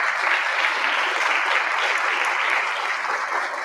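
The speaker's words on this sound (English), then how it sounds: "you can clap for that" An audience at an annual Dr. Martin Luther King Jr. celebration breaks into sustained applause, a dense, even wash of many hands clapping that holds steady throughout and fades slightly at the end.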